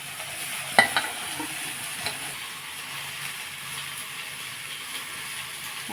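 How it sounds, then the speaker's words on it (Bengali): Yardlong beans go into potatoes frying in a pan: a couple of sharp clatters near the start, then a continuous soft sizzle with occasional light stirring scrapes. "এবারে বরবটিটা আলুর মধ্যে দিয়ে দেবো।"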